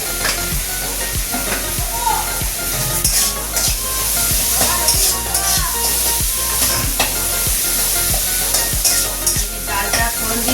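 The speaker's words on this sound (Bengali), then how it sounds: "ডালটা ফোড়ন দিচ্ছি" Lentil dal cooked with bottle gourd, cumin, ginger paste and tomato sizzles loudly in hot oil in a pot. A utensil stirs and scrapes the pot in a steady repeated rhythm, close by.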